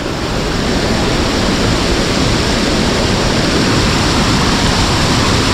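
A loud, unbroken roar of falling water, dense and steady throughout, like standing close to a waterfall in a Konkan village.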